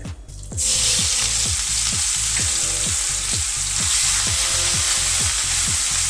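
Ginger-garlic paste and asafoetida crackle and sizzle loudly in hot oil for a tempering, a steady bright hiss with repeated rhythmic low knocks of stirring throughout.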